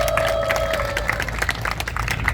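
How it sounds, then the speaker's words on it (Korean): Audience at an outdoor peace memorial culture festival applauding a volunteer: sustained crowd clapping with a busy patter of many hands and faint cheering, moderately loud throughout. "박수 부탁드립니다."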